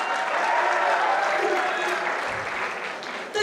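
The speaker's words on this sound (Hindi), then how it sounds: "तालियां हो जाए।" Audience applause at a university Republic Day celebration, a dense, steady wash of many hands clapping loudly and continuously throughout, with faint crowd murmur beneath.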